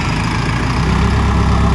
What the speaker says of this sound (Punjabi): ਦੇਖੋ ਵੀ ਟਰੈਕਟਰ ਦੇਖੋ ਫਰੰਟ ਕਰਾ ਵੀ ਪੂਰਾ ਭਰ ਕੇ ਲੈ ਕੇ ਜਾ ਰਿਹਾ